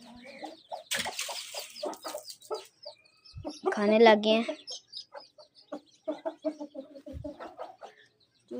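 Chicks cluck and peep while pecking at millet feed, scattered short calls with one louder burst of clucking, as someone talks briefly nearby.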